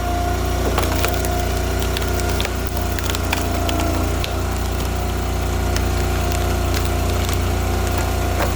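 Hackberry firewood, rotten and sweet-smelling inside, being split outdoors with a steady engine running underneath; sharp woody cracks and splintering snaps come through near and loud at irregular moments.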